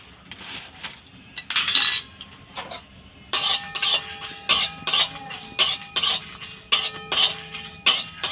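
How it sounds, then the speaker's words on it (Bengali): White mustard seeds being stirred in a hot pan with the gas turned off, a utensil scraping and clinking against the metal in a regular rhythm, close and fairly loud with no talking. "এর মধ্যে আমি সাদা সর্ষে দিয়ে দিচ্ছি।"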